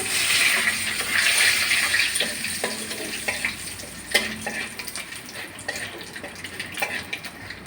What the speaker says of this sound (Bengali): এখন আমি এই যে লবঙ্গ দিয়ে দিচ্ছি যে দারচিনি আর তেজপাতা